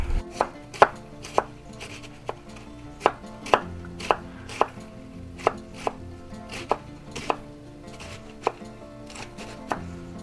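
Half a cabbage chopped on a cutting board with a knife: sharp, distinct knife strikes in an uneven rhythm, about two per second, close and clear with no talk.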